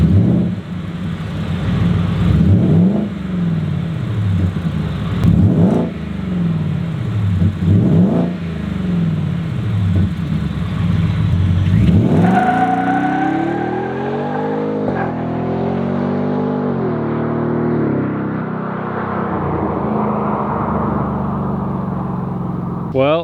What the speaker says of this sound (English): They want to rev it or they want to hear some noises of me doing a pull.